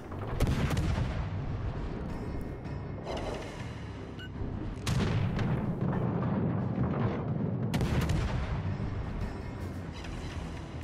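Warship guns firing in the naval video game World of Warships, with heavy booming salvos and crackling blasts that follow one another through a dense, loud stretch of battle noise.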